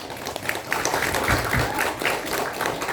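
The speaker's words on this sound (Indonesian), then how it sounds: "Tepuk tangan untuk panitia." Loud, lively crowd applause for the organizing committee at a Maulid Nabi commemoration, dense clapping with some crowd noise mixed in, sustained through the short stretch.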